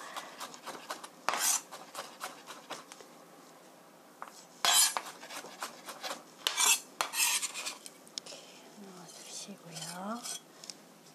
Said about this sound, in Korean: 이렇게 다져서 마늘 다져주시고요